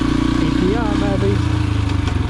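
A pit bike engine on the dunes revs with a buzzing, steady drone under a person talking close by.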